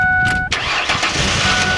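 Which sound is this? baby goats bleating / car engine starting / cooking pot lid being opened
car engine starting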